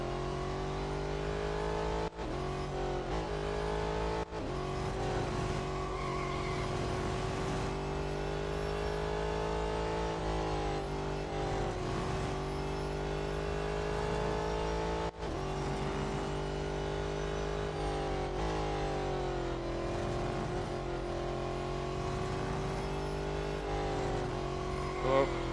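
Race car engine in Real Racing 3 during an autocross event, a steady loud drone with rising and falling revs and gear shifts throughout, no talk over it.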